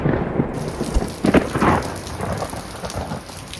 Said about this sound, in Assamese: ইমান ডাঙৰ বৰষুণ গাইজ, এতিয়াও বৰষুণ দি আছে আৰু ইমান ঢেৰেকণি মাৰি আছে